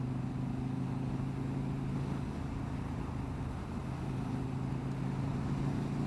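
KTM Superduke GT motorcycle ridden through the Scottish Highlands on Skye, a steady droning engine hum with wind rush, constant and close, no speech.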